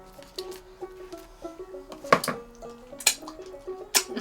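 Metal baking pan handled and bent in a home kitchen while making beef shepherd's pie, giving several sharp clanks and tinny rattles spaced through a quiet background, with no talking.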